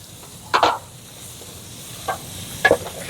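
Beef sears in a pot with Hungarian paprika for goulash, a low steady sizzle broken by a few sharp scraping and stirring knocks against the pot.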